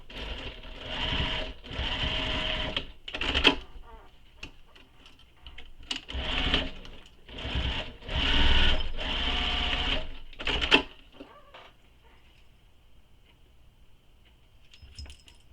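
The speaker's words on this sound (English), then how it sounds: "So now we're going to baste the sides together here." A sewing machine bastes the sides of a fabric backpack together in several bursts of close, steady stitching separated by short pauses, then falls quiet near the end.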